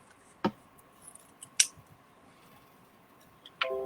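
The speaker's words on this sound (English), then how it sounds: "I'm going to cut off the excess." Scissors snip excess origami paper while a paper doll is being made. A few separate crisp, close cuts come at uneven intervals in a quiet room.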